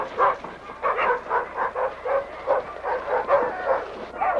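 Sled dogs bark repeatedly in a rapid, excited chorus of overlapping yelps and barks, close and loud, on a Yukon trail.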